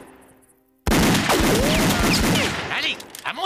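Cartoon Wild West gunfire in a Lucky Luke episode, a sudden dense fusillade of rapid shots with ricochet whines, loud and sustained before thinning out into scattered pops.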